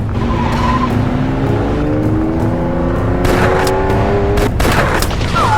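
A car chase in a French film, with a loud engine whining upward while tires skid and squeal and sharp bangs like gunshots cut in near the end, all close and continuous.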